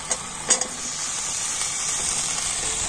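Boiled potatoes tipped into lightly sautéed spices in a pan: two quick soft thuds and scrapes at the start, then an even, close frying sizzle carrying on underneath.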